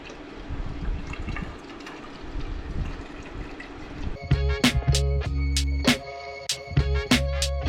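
Coolant glugs from a jug through a funnel into a new radiator on a square body truck, rhythmic gurgling pours that begin midway after quieter shuffling and handling sounds.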